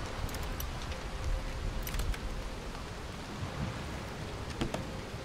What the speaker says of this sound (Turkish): Yağmur yağınca su birikintisinin efekti çok iyi değil mi?